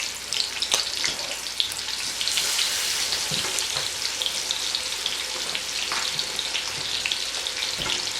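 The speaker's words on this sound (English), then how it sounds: "So all we're going to do, fry them up in this bacon grease." Pork chops frying in bacon grease, giving a constant loud sizzle and crackle with scattered pops and spits throughout, close up and without talk.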